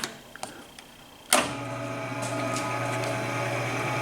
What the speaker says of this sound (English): Here's a milling machine, Precision Matthews, PM 932.